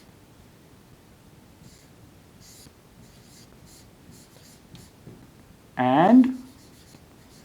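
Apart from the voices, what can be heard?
writing city names during a maths lesson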